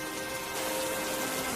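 Steady rain falling, a dense, even hiss of drops that grows slightly louder partway through, heard alone in a brief stretch.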